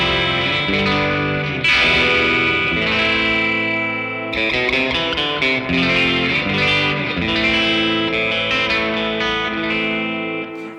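Electric guitar played through a JAM Delay Llama delay and a JAM Eureka Fuzz, with loud, sustained fuzzy chords and notes trailed by delay repeats and a brief pause midway, no talking.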